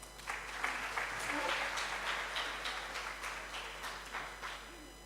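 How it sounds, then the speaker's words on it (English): An audience at a midwifery, obstetric, neonatal and child health conference applauds a speaker coming up to present, a moderate, uneven round of clapping with distinct individual claps and a faint low hum underneath. "Let's give her a round of applause."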